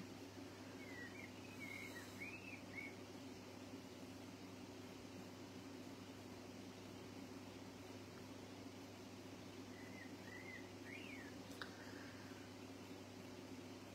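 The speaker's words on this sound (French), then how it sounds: "Je ne sais pas si vous entendez les oiseaux aujourd'hui, mais ils font leur petit chant, là, tranquille." Small birds chirping outdoors in a few short, faint twittering phrases, far off beneath a steady hum of background noise.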